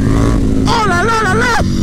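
A KTM Super Duke 1290 R twin-cylinder motorcycle engine revs up close and loud, its steady throbbing idle climbing into a rising, wavering roar before it drops back.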